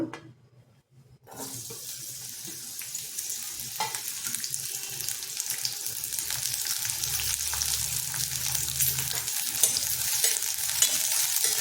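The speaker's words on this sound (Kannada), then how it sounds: "ಇದನ್ನು ಚೆನ್ನಾಗಿ ಹುರಿಬೇಕು, ಅದೇ ತುಂಬ ಮುಖ್ಯ ಇದರಲ್ಲಿ." Chopped mungaru balli vine fries in hot oil in a pan, a continuous bright sizzle that builds and stays loud, broken by occasional scrapes and knocks of stirring.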